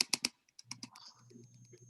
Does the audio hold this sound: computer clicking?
yes